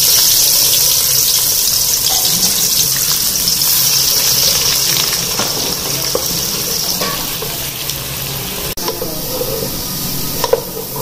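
Onions hit hot oil in a pot and fry with a loud, steady sizzle that fades slightly over time, punctuated by a few faint stirring clinks near the end.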